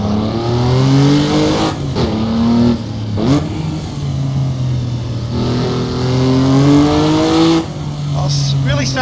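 Race car engine from a 1973 Targa Florio car revving hard at wide open throttle in a sim racing game, a loud sustained roar that climbs and drops with gear changes, with a voice talking over it.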